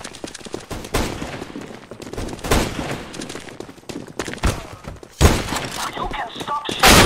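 Gunfire in Counter-Strike: Global Offensive (CS GO) cracks out in repeated loud bursts and volleys across the stretch, with someone talking over the shots.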